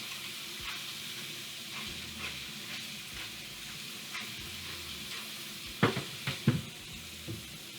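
Beyond Meat sausages and peppers cooked Philly style with balsamic vinegar sizzle steadily in a pan at close range. Soft stirring scrapes run through it, with a few sharper clinks near the end and no talk.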